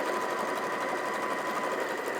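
A sewing machine runs steadily while stitching along a bias edge of fabric, producing a continuous close whirring hum with no pauses.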